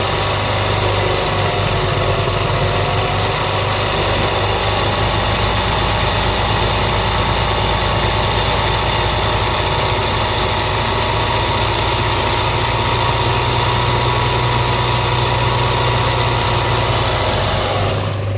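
A computer embroidery machine stitching a dupatta runs at high speed with a loud, steady mechanical hum and rapid vibrating drone that continues unbroken throughout, close by and alone.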